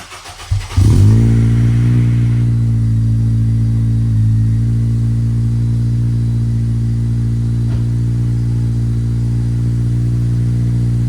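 An Acura RSX Type S (DC5) engine with a Spoon N1 sport exhaust fires up with a brief rev, then settles into a loud, deep, throaty idle with a steady rumble.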